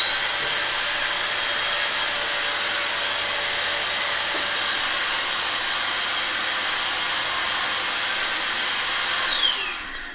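A DataVac electric duster blower with an arm attachment runs continuously, a loud steady high-pitched whoosh heard from about three meters away, cutting off near the end.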